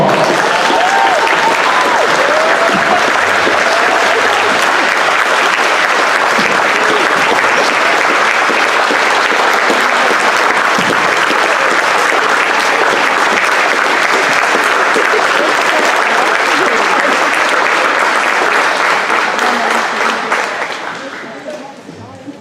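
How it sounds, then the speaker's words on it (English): A crowd in a gym at a varsity boys basketball game applauds the senior class on senior night, a loud, sustained wall of clapping and cheering that fades out near the end. "give them a big round of applause"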